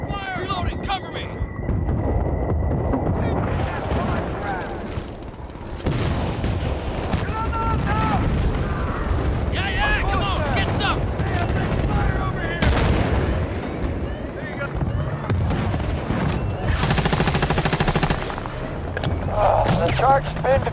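Battlefield Bad Company 2 online match with continuous gunfire, dense rattling bursts and booming explosions layered loudly throughout, with voices talking over the battle.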